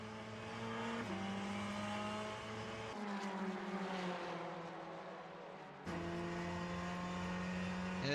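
A race car in Le Mans Ultimate at Sebring roars steadily at high revs, its engine note climbing through gears with abrupt pitch drops at each shift, loud and continuous with no talk over it.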